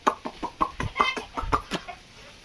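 Chickens cluck in a quick series of short, repeated calls on a poultry farm, fairly close and overlapping, with a faint steady hiss in the background.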